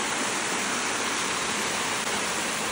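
A small waterfall on Koh Phangan, heard up close, pours as a loud, dense and unbroken rush of splashing water with no voices.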